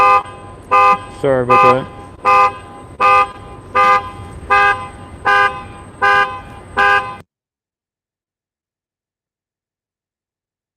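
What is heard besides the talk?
car alarm or horn going off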